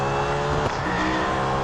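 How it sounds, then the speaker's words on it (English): Tires on a 2018 Nissan Altima race car squeal steadily under a loud, droning engine as the car slides through a turn at Hockenheim in Real Racing 3. "bit of skidding"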